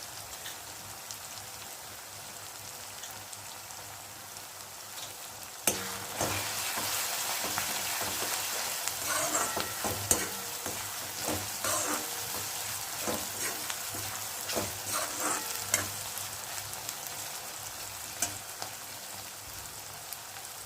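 Pav bhaji mixture with turmeric sizzles and fries in a pan, quiet at first, then a sudden steady crackling sizzle with repeated scraping stir strokes close by, no talking.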